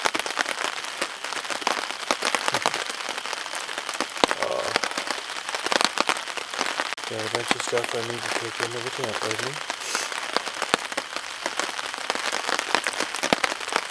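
Steady rain patters on a taut tent roof overhead while camping in the Boundary Waters, a dense close hiss, while a person talks over it.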